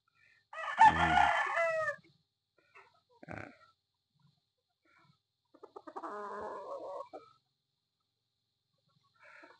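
An 8-month-old Sweater cross Boston Roundhead rooster crows loudly and close by in a farm setting. Quieter clucks and scattered noises follow, then a second, shorter call.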